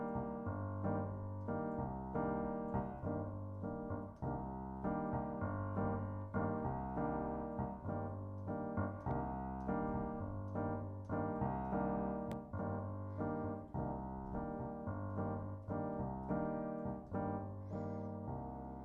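Piano plays a slow bossa nova groove, the left hand an octave lower in the bass, with a repeating syncopated rhythm of sustained chords over low bass notes, close and steady with no voices.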